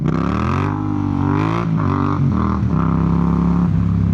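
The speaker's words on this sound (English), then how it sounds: "I'm in first gear. Just twist the throttle." A Yamaha MT-07 motorcycle pulls hard in first gear as the throttle is twisted, its engine note rising and falling loudly and close by, with revs climbing in steps across a few seconds.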